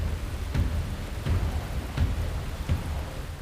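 A dangerous thunderstorm along a coastline pours steady heavy rain, with low thunder rumbles and cracks rolling in about every three-quarters of a second, all fairly loud.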